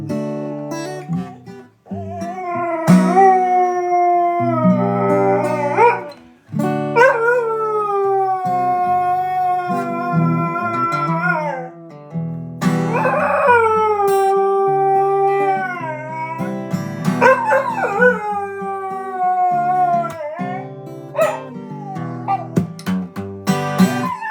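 A dog howls in long, wavering, pitch-sliding cries, pausing between drawn-out howls, loud and close.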